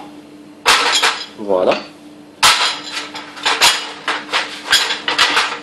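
Ceramic crème brûlée ramekins clink and knock as they are set down one after another on a perforated baking tray, sharp close clatters with a brief spoken word in between.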